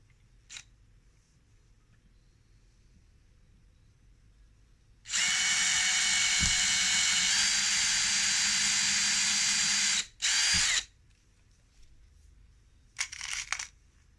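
Power drill driving screws into the wood of a 20-frame beehive, one steady loud run of about five seconds and a short second burst, with quieter handling sounds before and after.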